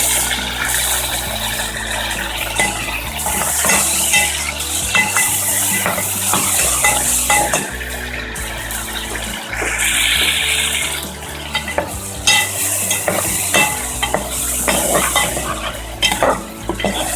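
Tomatoes stir-fried in a pan with garlic and ginger for dal palak, a steady loud sizzle with repeated scraping and stirring clatter throughout, no voices.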